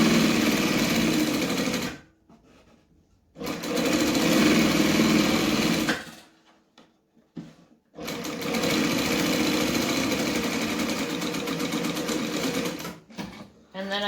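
A sewing machine runs in three long steady bursts with short pauses between, back stitching the end of a lining seam; the motor whirs loud and close, and a voice speaks over part of it.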